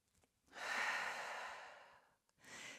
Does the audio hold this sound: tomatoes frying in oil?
no